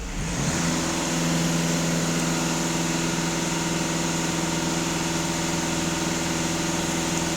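A VW Golf 2.0 TDI diesel engine is held at high revs with the throttle floored, giving a steady, droning roar. A strong constant engine tone carries on through the whole stretch, and no one talks.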